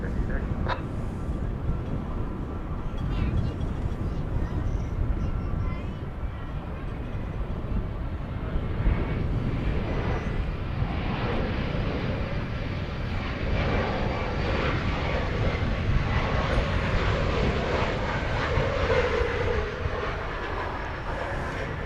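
An airplane lands on runway 18 right at DFW Airport, a steady broadband engine roar persisting for over twenty seconds, with radio chatter and talk mixed in beneath it.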